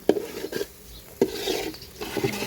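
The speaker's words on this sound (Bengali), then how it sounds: "আজকে বোনা খিচুড়ি রান্না করতেছে" A spoon scrapes and stirs bhuna khichuri of lentils and rice in a cooking pot, with several uneven strokes and soft clinks close by, with no voice.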